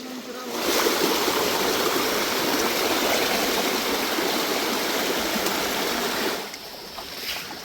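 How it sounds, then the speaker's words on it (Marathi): A forest stream flows at night, a steady, close rushing hiss of water that holds evenly for several seconds before easing at the end. "मस्त पाण्याचा आवाज येते."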